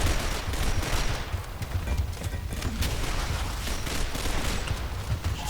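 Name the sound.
gunfire in a competitive shooter video game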